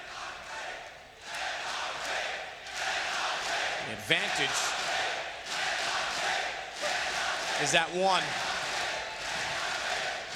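A live arena crowd at an IEM Sydney 2019 CS:GO esports quarter-final roars and cheers in sustained waves, while a caster talks over the noise throughout.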